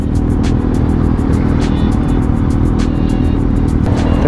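Congested road traffic in Malolos in the rain, with car engines droning continuously and vehicles moving past close by, a steady dense roar with no talking.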